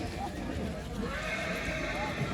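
A purebred Kathiyawadi horse neighs at a horse buying event in Bhavnagar, its whinny rising out of a steady crowd murmur with people talking close by throughout.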